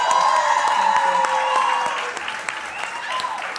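An audience at a business event applauds loudly and steadily, with a few cheers and voices in the crowd. The clapping fades slightly toward the end.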